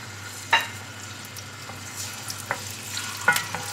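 Chicken marinated in yogurt, garlic-ginger paste and lemon juice frying in about a cup and a half of oil in a karahi: a soft, continuous sizzle with a low steady hum, broken by a few sharp utensil clinks, no talking.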